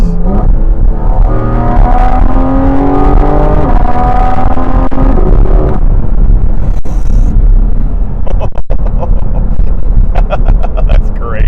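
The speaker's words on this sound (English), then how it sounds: "I'm gonna throw it in manual," A 2023 Porsche 718 Cayman GT4 RS engine revving hard after a shift into manual and a drop of a couple of gears: loud, close, rising howls climbing in pitch, then sharp shift cracks and a pulsing rasp.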